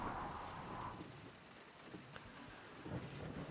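Heavy rain pours steadily in the Assetto Corsa Competizione racing game, a dense hiss with deep rumbling thunder underneath and a few sharper splashes, with no talk over it.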